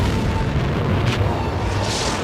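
A deep, rumbling explosion of an asteroid bursting in the atmosphere, a dense, sustained roar that fills the whole stretch at high loudness with no talk over it.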